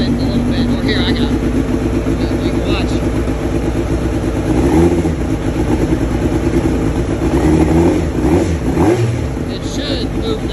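A GSXR-engined sand rail buggy at the dunes of an off-road area idles, then takes several short revs close by, with voices talking over the engine.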